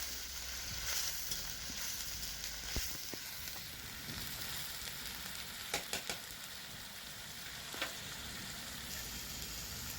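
Ground ginger, garlic and onion paste fries steadily in a pan for a fish curry. A continuous, fairly quiet sizzle runs throughout, with occasional sharp clicks and spatters but no talking.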